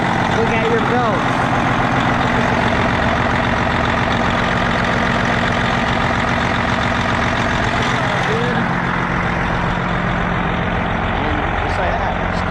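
A big semi truck diesel engine, in a Freightliner Classic, idles steadily and loudly up close, a constant throbbing rumble that continues without a break for the whole stretch.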